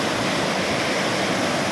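The second waterfall at Bolinao falls pours with a loud, steady, close rushing roar, continuous and even, with no voices over it.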